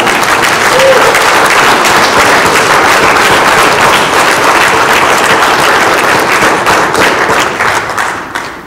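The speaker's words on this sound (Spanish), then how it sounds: "Let's give an applause." Wedding guests break into loud, sustained applause that fills the room with dense clapping, tapering slightly near the end.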